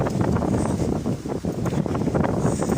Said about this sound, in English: And it's very windy, so I don't know if you can really hear anything that I'm saying.